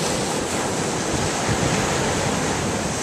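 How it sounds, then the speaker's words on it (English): Ocean water bubbling up and rushing over broken rocks on the shore, a loud continuous wash of surf with wind buffeting the microphone and no talk. "The ocean water is bubbling up and running that way, back out into the ocean."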